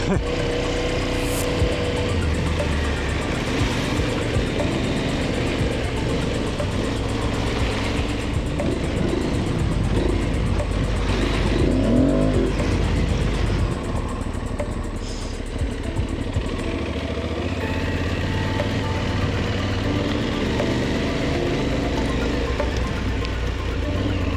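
A motorbike crawling along a slippery, muddy camping trail, its engine droning steadily and close throughout with small throttle changes, while a rider's voice can be heard at times over the noise.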